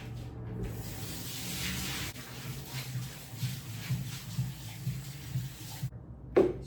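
Rice is washed under a running tap, with a steady hiss of water and soft sloshing as the grains are swirled in a bowl. The sound is close and there is no talk.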